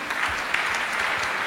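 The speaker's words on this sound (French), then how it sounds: "On peut bien sûr applaudir cette mention." An award ceremony audience applauds in a dense, steady round of clapping lasting a second and a half, moderately loud, with a few sharper individual claps standing out.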